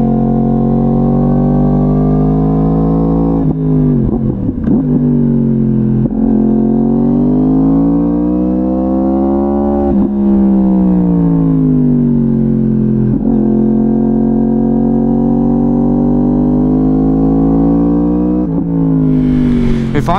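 A Yamaha R1 motorcycle rides on a track, its engine droning loud and close throughout, pitch rising and falling with repeated throttle changes and shifts as it works through corners.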